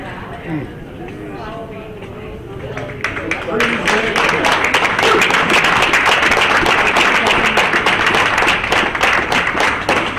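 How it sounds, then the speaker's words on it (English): Local crowd clapping as veterans step off a bus at a North Country Honor Flight welcome: dense, sustained applause swells in after a few seconds and continues steadily, with someone talking over it. "there's a nice contingent of local folks behind us with their hands clapping for every one of these veterans as they get off the bus"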